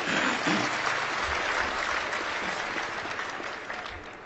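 Audience applause at a Hindi poetry recital: a dense, steady clapping from a sizeable crowd, loud and sustained throughout before easing slightly toward the end, with no talk over it.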